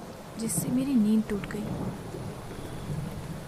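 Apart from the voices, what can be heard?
heavy rain at night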